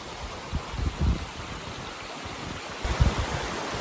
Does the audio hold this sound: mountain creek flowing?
yes